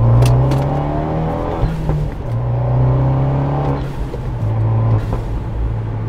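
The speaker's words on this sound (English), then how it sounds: "So there's a couple pops and bangs for you." A tuned Fiat 124 Spider drives at a steady engine drone that rises and falls, with a few brief crackling pops from the exhaust over the running engine, heard from inside or near the car and with no talking.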